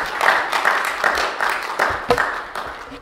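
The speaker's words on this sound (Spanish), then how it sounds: "Denle un aplauso al Señor por eso" Members of a Hispanic church congregation clap during a Spanish-language Christmas sermon service, a brief, uneven burst of applause with some louder individual claps standing out near the end.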